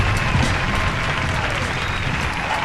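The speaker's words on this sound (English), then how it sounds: "Round of applause." Steady applause from a crowd fills the room during an underground radio hip-hop show, continuous clapping at an even level throughout.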